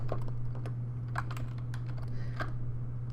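A computer keyboard clicks close by in a few scattered light taps for shortcut keys, over a constant low electrical hum and with no one talking.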